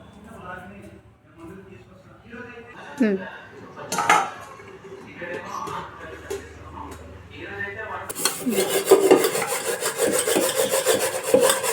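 Chicken dum biryani curry is stirred in a pot so the onions come up from the bottom. Scraping and clanking of the spoon against the pot run under steady talk and grow louder and denser toward the end.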